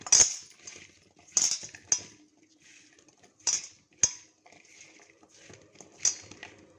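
A spoon scraping and clinking against a bowl while chutney ingredients with red chilli and salt are mixed, several sharp metallic taps at irregular intervals with soft scraping between, close and clear with no talk.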